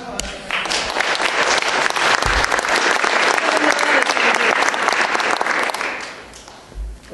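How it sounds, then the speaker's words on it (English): Audience applause at a political talk, a dense, steady roar of clapping building quickly and holding for several seconds before fading at the end. "Please, round of applause."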